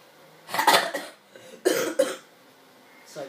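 A man's coughs, close and fairly loud, in two short clusters of harsh bursts about a second apart, followed by a fainter third cough.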